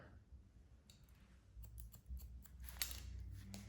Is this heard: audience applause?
no